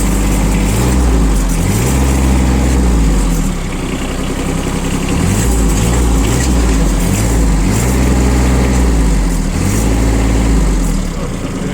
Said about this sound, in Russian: Видно, я думаю, и слышно, что двигатель работает просто отлично.